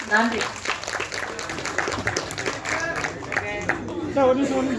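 A theatre audience claps and cheers in a steady wash of applause, with voices talking over it.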